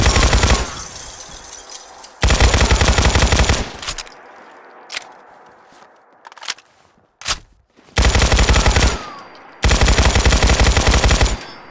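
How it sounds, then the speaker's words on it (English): Bursts of rapid automatic fire from a small machine gun in a modded Fallout 4 game, four long loud volleys separated by quieter gaps with scattered single shots and clicks. "this is like just a little machine gun"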